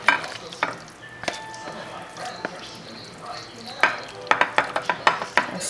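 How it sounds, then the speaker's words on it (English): A spoon scrapes tuna into a small square pan, giving a series of close metallic taps and scrapes, sparse at first and then clustered, over a faint background hum. "I'm going to go ahead and spoon the tuna inside of the pan."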